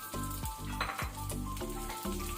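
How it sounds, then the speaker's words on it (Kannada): Crushed garlic and cumin seeds, with curry leaves, sizzle loudly in hot oil in a pan for tomato chutney, with rhythmic stirring scrapes and faint clinks of a utensil. "ಬೆಳ್ಳುಳ್ಳಿ ಕೆಂಪಾಗೋ ತನಕ ಫ್ರೈ ಮಾಡ್ಕೊಳ್ಳುವ."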